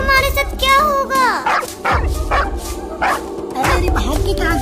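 Close, loud yapping barks come from a dog chasing kittens in a cartoon, firing in fast bursts over a musical score, with a high whining cry breaking in at the start.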